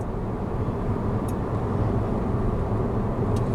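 Steady low road and tyre rumble fills the cabin of a 2016 Audi A3 1.8T while driving, an even, broad hum with a couple of faint ticks and no talking.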